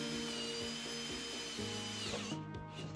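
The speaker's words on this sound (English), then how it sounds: "I drilled a 7/8 inch hole in line with where I wanted one of the pipes to come in" Power drill boring a 7/8 inch hole into a box, with a steady whining motor whose pitch shifts as the bit bites, close and alone.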